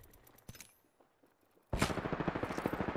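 Gunfire in a shooter video game: a few scattered distant shots, then a loud, sustained burst of rapid automatic fire with sharp repeating cracks.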